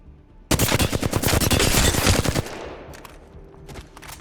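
Sustained rapid automatic gunfire from a weapon in Apex Legends, fired at a practice target in the firing range, a loud dense burst lasting about two seconds, then tapering into scattered echoing shots and clatter.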